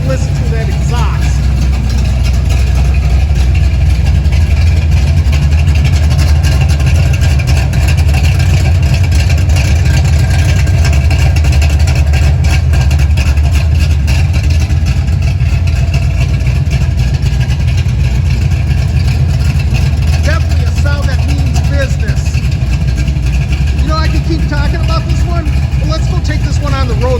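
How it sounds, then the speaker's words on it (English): A 1975 Pontiac Firebird Trans Am with a cammed 455 engine idles with a loud, deep, continuous exhaust rumble, close and steady for nearly half a minute. "Let's take a listen to that exhaust."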